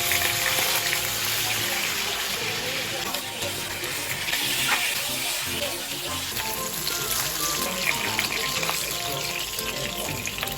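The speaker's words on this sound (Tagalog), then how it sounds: "Kaya naman nag-start na nga rin akong magluto at piprituhin ko nga muna itong mga bangus" Marinated milkfish (bangus) frying in a pan, a loud, dense, continuous crackling sizzle that holds steady throughout, close and unbroken.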